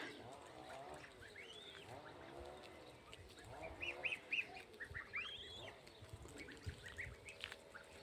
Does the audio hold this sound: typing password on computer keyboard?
no